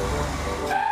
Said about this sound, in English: I wonder what that rumbly sound is, George.